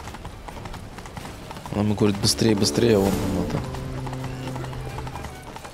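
A horse gallops under a rider in The Witcher 3, hooves pounding in a quick rhythm along with a loud whinny and a few thuds, while someone talks over it in the middle of the clip.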